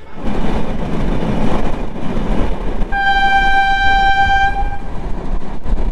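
A train rumbles loudly nearby at Narail railway station, Bangladesh, then a long, steady horn blast sounds for about two seconds before the rumbling carries on.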